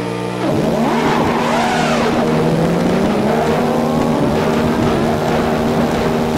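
A car launching hard with wheel spin, its engine roaring loud and steady as revs climb and hold, close and continuous with no talk.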